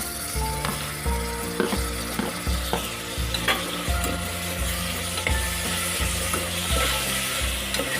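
Three chopped medium tomatoes sizzle and fry in a pan for Telugu-style chicken curry, stirred steadily with repeated scraping strokes over a constant loud sizzle.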